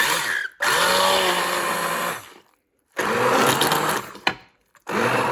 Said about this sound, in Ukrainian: тепер це все будемо змішувати нашим отаким ручним блендером